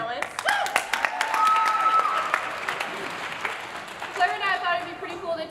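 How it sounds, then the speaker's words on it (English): An audience at a high school Mr. MHS pageant claps in a dense burst of applause with a few whoops, loud at first, then thinning toward the end. "Let's give another round of applause to all of our senior guys and their incredible talents."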